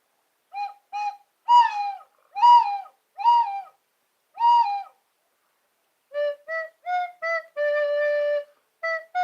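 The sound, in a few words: doves cooing, owl-like sound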